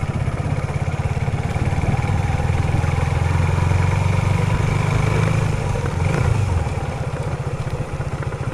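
A motorcycle engine runs steadily and loudly up close for the whole stretch, with a rough, fast-pulsing low drone and some rattling clatter, and no talk over it.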